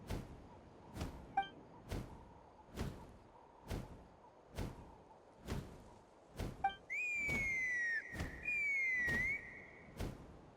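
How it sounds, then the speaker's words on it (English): A rising two-note whistle call from Genshin Impact, sounded twice in a row and held steadily each time, over a slow, regular series of soft thuds that run through the scene. "That sounded like a whistle."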